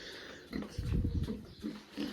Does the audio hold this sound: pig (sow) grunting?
yes